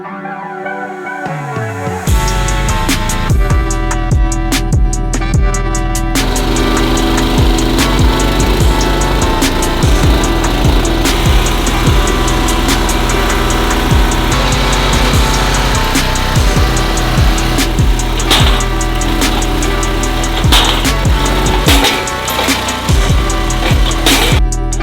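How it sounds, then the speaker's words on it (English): A tractor on a homestead runs with a loud, steady engine rumble and drone that starts after a couple of seconds and holds throughout, with an uneven throttle note. "You could hear the tractor in the background."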